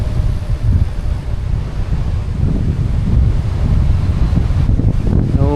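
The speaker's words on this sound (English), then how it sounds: "Got some waves today." Ocean waves roll onto a sandy beach on Bristol Bay, Rhode Island, a steady loud wash of surf mixed with heavy wind buffeting the microphone throughout, with no voices.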